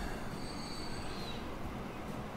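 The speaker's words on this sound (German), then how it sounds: "Eine wunderschöne Lok der DB." A DB locomotive in the railway game Transport Fever rolls past with a dense continuous rumble and rail roar, a thin high wheel squeal fading in the first half, steady and fairly close.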